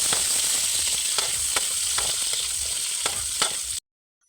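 Kikiam frying in a pan, a steady close hiss of sizzling oil with occasional sharp pops and crackles, continuous and alone, cutting off abruptly near the end.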